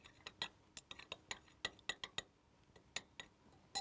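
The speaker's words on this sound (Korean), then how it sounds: "색소가 잘 섞일 수 있도록 유리 막대로 저어줍니다" A glass rod stirring dye solution, with light, close clinks and taps against the container in an irregular rhythm.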